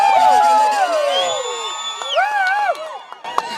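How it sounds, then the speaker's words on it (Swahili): A crowd ululates and cheers with high, wavering trilled calls at an outdoor prize celebration in Kiango as a newly won pickup truck is started; the voices are loud and close, tailing off toward the end. "Akiwasha tunapiga vigelegele kidogo."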